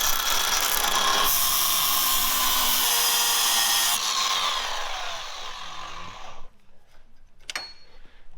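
A power tool with a cutting wheel grinds through a steel light-mounting bracket on a Bronco, a loud harsh whine and screech running continuously for several seconds before spinning down, followed by a brief metallic clink.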